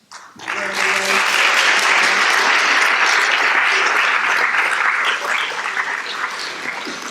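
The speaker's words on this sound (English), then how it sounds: "let's have another round of applause" Loud, sustained applause from a large audience starts abruptly and continues evenly, with faint voices underneath.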